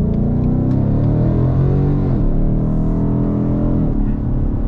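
A Ford Mustang GT on a north Georgia mountain road gives a loud, steady engine drone from inside the cabin, rising and dipping slightly with shifts in throttle.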